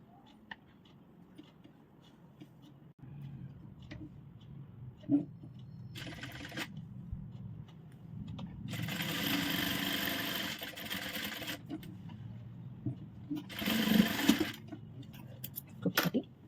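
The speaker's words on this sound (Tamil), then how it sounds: "இங்கே ஒரு தையல் போட்டுக்கலாம்." Sewing machine stitching a back-open blouse with a hook closure, running in a couple of short bursts between handling sounds and a faint voice, close and moderate in volume.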